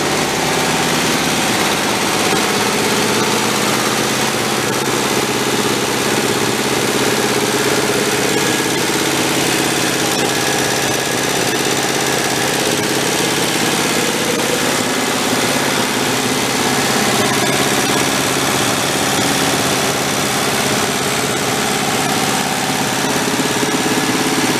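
A broken Volkswagen tractor engine, its carburettor slightly off, idling steadily and loudly with a continuous rough mechanical drone and vibration, close up and without any talk.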